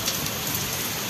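Steady rain falls outside a window, a dense, even patter on surfaces heard close and alone without any voices.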